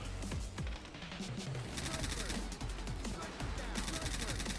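Rapid video-game gunfire from sniper rifles and SMGs in Warframe, with bursts of sharp repeated shots crackling continuously and mixed with game effects under a fairly loud background.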